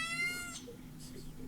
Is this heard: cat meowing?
yes